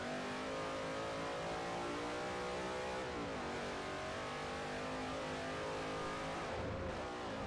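Race cars in the Xbox 360 game Forza Motorsport 4 roar continuously, with engines droning and revving in shifting pitch, loud and steady throughout and with no talking.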